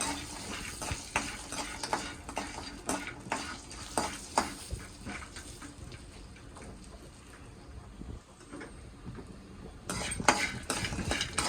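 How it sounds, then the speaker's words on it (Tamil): Dried vathal frying in a pan for vathakulambu gives a soft, continuous sizzle. Scattered scrapes and clinks from stirring with a utensil sound close and quiet, with no talk. "இந்த வத்தல அதில் போட்டு வதக்கணும் நல்லா வறுக்கணும்"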